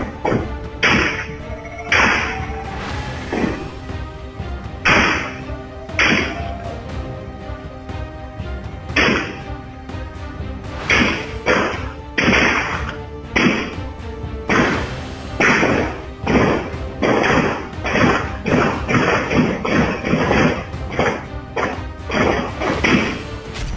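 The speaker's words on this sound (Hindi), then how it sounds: "बोलेरो गाड़ी के बाएं मुड़ते ही गोलियां चलने की आवाज सुनाई देने लगती है।" Gunshots ring out at a car as a Bolero turns left in pursuit of a Thar, a long series of sharp cracks and thuds that come in uneven bursts, loud and close, over a noisy, clattering background.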